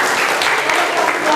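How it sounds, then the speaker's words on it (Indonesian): A classroom group gives a short burst of applause, dense and fairly loud, steady clapping from many hands throughout. "tepuk tangan untuk Nabil."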